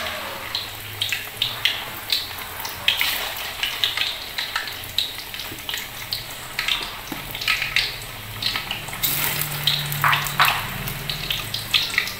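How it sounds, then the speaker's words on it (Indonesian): Snakehead fish pempek frying in hot oil: a loud, busy crackle and bubbling sizzle with frequent popping bursts, close by and continuous throughout. "sudah matang kita salin setelah itu digoreng"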